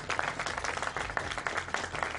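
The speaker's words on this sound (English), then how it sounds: "And we applaud for them." A studio audience at a high school quiz show applauds the competing team, a dense burst of many hands clapping close and loud throughout.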